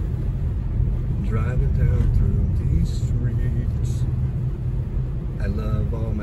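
A car driving through snowy streets of Big Bear Lake, California, with a steady low road rumble and engine hum throughout, while a person talks over it.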